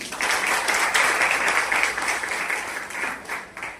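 Audience applause at a formal Marathi speech event honouring a person, a steady, dense burst of many hands clapping that holds for several seconds and eases slightly toward the end.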